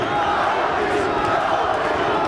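Boxing crowd of about 12,000 at the Pan American Center keeps up a dense, loud wash of cheering and shouting for a local hero, steady throughout, with a ringside commentator's voice partly mixed in.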